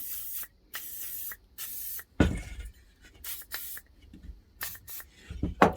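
WD-40 is sprayed onto a TS125 motorcycle engine cylinder in repeated short hissing bursts, close and loud, followed by scattered clicks and handling noises.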